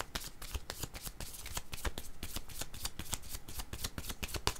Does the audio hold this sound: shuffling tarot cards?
yes